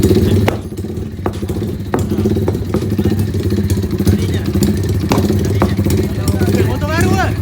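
Motorcycle engine running steadily at close range throughout, a continuous loud drone under people chatting during a group ride with team Tupai.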